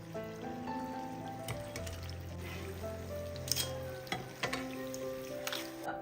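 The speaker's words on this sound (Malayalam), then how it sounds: "ചെറിയൊരു ഗോൾഡൻ നിറം ആകുന്നത് വരെ തിരിച്ചും മറിച്ചു വിട്ട് ഒന്ന് ഫ്രൈ ചെയ്തെടുക്കുക" Iftar snacks deep-frying in oil until light golden, a quiet steady sizzle and bubbling under soft background music, with a few scraping touches as the pieces are turned.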